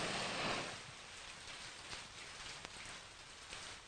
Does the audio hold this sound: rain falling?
yes